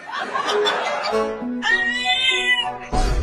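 A small kitten gives a few short, high meows up close, with a brief chuckling laugh nearby and some background noise.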